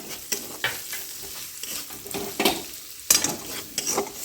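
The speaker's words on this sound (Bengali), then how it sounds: "এখানে একটা পেঁয়াজ কুচিয়ে নিয়েছি, বড় সাইজের পেঁয়াজ, ভেজে নিচ্ছি।" Chopped large onion frying in a hot pan, with a continuous sizzle broken by repeated scraping strokes of a spatula stirring, close and fairly loud.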